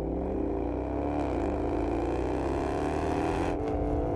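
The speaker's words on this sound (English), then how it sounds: "This is the latest in a long line of performance Jaguar engines." A Jaguar XFR/XKR 5-liter V8 engine runs with a loud, continuous drone and layered tones that shift slightly in pitch, holding steady for the whole stretch with no talk.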